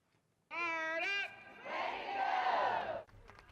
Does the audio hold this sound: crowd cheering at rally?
yes